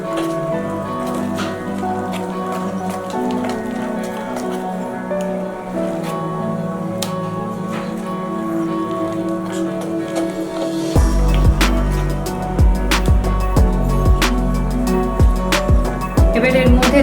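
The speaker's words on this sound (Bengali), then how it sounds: "আমি এইভাবে অনবরত নাড়াতে থাকবো, তাহলে চিনির দানাগুলো গুলে যাবে।" Sugar being stirred continuously in a pan until it dissolves for palm-fruit steamed pitha, a close, steady scraping and clinking that grows denser and sharper partway through, with no talk.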